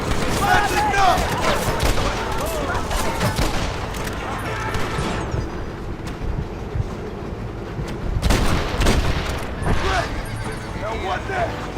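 Gunfire crackles through a chaotic shootout in the Western game Red Dead Redemption, with dense overlapping shots, horses whinnying and hooves clattering, and someone shouting commands over the din.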